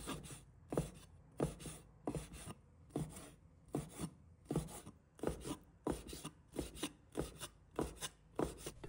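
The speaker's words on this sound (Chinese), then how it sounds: "准备好的虾仁切成小粒" A knife chops peeled shrimp into small pieces on a board. The chops are close and crisp, falling in a steady, even rhythm of about fourteen strokes, with no talking.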